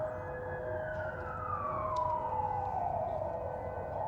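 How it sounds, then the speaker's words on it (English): Siren in the video game Silent Hill 4: The Room, a long slowly descending wail heard steadily at moderate distance over a low background rumble, without talk. "And he's never heard a siren before."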